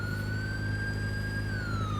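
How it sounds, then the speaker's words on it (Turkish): A police siren in the video game GTA 5 wails continuously, a loud sustained tone that slowly rises and then drops over a low engine rumble, with no talking. "Korkuyor mu abi artık siren sesinden"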